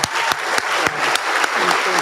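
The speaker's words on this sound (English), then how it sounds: "just a round of applause for Captain Gordon" A round of applause at a Marine Corps awards dinner, a crowd clapping briskly with a few sharp, distinct claps standing out above the dense patter, close and fairly loud.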